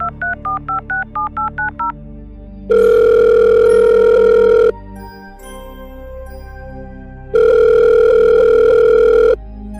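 A telephone being dialed to call a friend: a quick run of keypad tones, then a steady dial tone that stops, a quiet gap, and the tone sounding again, loud and close.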